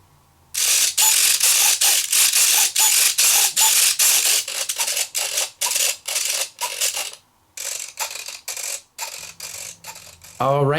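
Small servos on an E-flite UMX F4F Wildcat WWII warbird RC plane whir and buzz in quick repeated bursts as the control surfaces sweep back and forth, close and clear, with short gaps between movements.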